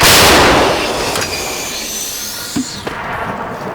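A single loud artillery gun blast at the start, its roar rolling and fading over several seconds, with a couple of faint distant thuds afterward.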